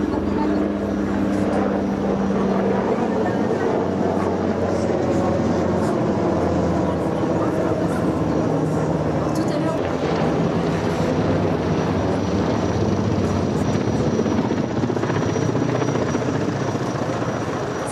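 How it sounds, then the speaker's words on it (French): NH-90 Caïman naval helicopter flying a display at an air show, a loud, steady rotor and turbine roar throughout, with faint background voices. "un hélicoptère de nouvelle génération"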